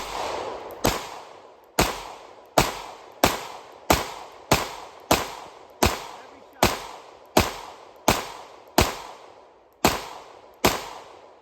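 A Springfield Hellcat pistol fires about fifteen sharp, close shots at a steady, fairly quick pace during a rainstorm, each crack ringing out briefly before the next.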